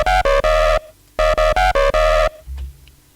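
Loud, buzzy sine bass tones distorted by a wave shaper pulse in short bursts, stopping and restarting in a choppy rhythm, with no voices.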